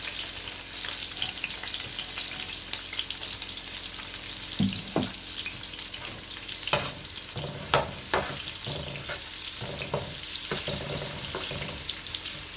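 Chopped onion hitting hot oil with whole garam masala spices, a steady dense sizzle with several sharp stirring scrapes and clacks near the pan, no voices.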